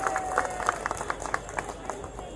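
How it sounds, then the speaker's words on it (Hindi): Crowd at a Delhi street-corner political rally clapping to welcome Deputy Chief Minister Manish Sisodia, a steady patter of mid-distance applause with scattered sharper claps across the whole stretch. "एक बार जोरदार तालियों से दिल्ली के लोकप्रिय उप मुख्यमंत्री मनीष सिसोदिया जी का स्वागत करें"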